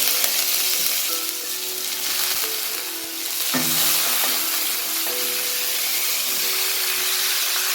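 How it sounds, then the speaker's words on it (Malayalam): Curry leaves, ginger and sliced onion sauté in a hot pan, a loud steady sizzle with intermittent scraping and stirring clatter from a spatula, with no one talking. "ഇനിയിപ്പോൾ കരിവേപ്പില ഞാൻ ഇതിലേക്ക് ഇട്ടിട്ട് ഇഞ്ചി സവാളയും കൂടി ഇട്ട് വഴറ്റുന്നു"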